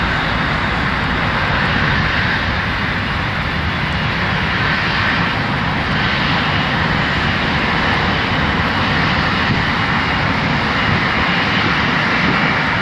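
A US Airways Airbus A330-200 jet departs London Heathrow Airport, its engines a loud, continuous broadband roar that holds steady throughout without a break.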